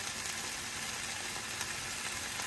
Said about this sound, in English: It's sizzling a lot, which is like stressing me out.